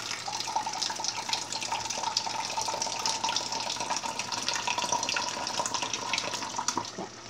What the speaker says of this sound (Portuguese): Deixa eu ligar aqui o filtro e pegar a água.